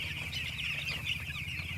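Chickens clucking inside a village poultry farm shed, a soft steady murmur of many birds with faint higher calls over a low background hum.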